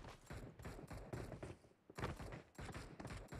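Rapid gunfire in a mobile shooter game, faint and fairly distant, in repeated clusters of quick shots with a short pause in the middle.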